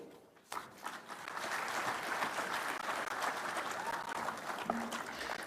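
A conference hall audience at a devolution conference breaks into sustained clapping after a brief quiet start, a thick, even roar of hands with a few scattered voices beneath it.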